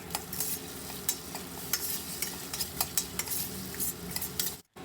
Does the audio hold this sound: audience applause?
no